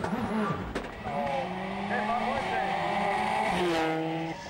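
A Ford Focus rally car engine whines through a misjudged handbrake turn on a 2006 WRC stage, with squealing tires and rising and falling engine pitch under a commentator's voice.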